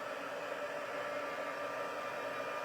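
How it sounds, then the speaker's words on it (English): A Stampin' Up embossing heat gun blows with a steady, even whoosh of air that holds constant and close for the whole stretch, with no voices over it. "It's a Stampin' Up heat gun that you would use for embossing."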